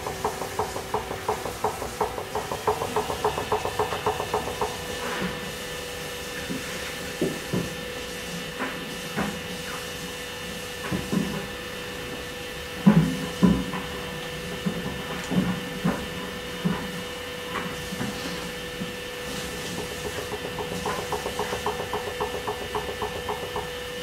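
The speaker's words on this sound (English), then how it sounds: "Using half wheel speed, we'll pull open the bottom of our pot." An electric potter's wheel turns at half speed while the bottom of a clay pot is opened, giving a steady motor whine with scattered soft knocks and thumps from the clay and hands throughout.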